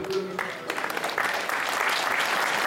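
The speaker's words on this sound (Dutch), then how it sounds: "Een warm applaus voor de totale jeugd van onze club." An audience at a memorial event at a club field claps warmly for the club's youth, a steady patter of applause with a voice heard briefly over it at the start.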